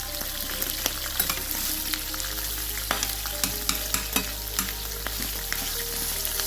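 Salted onions fry on a hot cooktop set to about number 7, giving a continuous close sizzle. Frequent sharp scrapes and taps of stirring run through it, and a low steady hum sits underneath.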